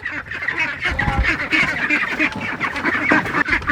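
Ducks quacking and honking in a busy, overlapping cluster, close and steady throughout with no talking.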